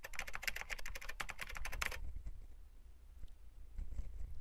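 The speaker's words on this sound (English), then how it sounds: "typing the password of the user and pressing the enter button" A Linux user's password is typed on a computer keyboard: a rapid, close run of crisp key clicks for about two seconds, then quieter background with faint scattered taps. No one talks.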